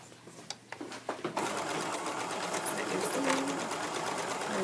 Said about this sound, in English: And just sew right up the side.